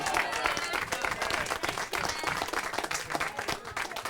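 A studio audience at a country music reunion gathering applauds the band, steady mid-distance clapping filling the whole stretch, fairly soft overall.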